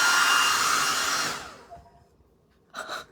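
A hair dryer blows hot air to dry paint on a craft pumpkin decorated in Delft china style, a loud steady whoosh close by that cuts off partway through and then briefly roars back on at the end.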